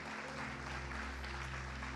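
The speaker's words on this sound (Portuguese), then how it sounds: "Você pode aplaudir ao Senhor" A church congregation applauding during a worship service, dense continuous clapping under a sustained low musical drone, evenly loud for the whole stretch.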